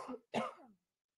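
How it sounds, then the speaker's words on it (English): Two short, raspy coughs come close and fairly soft, the second stronger than the first, then silence. "Hopefully this cough will not do too much."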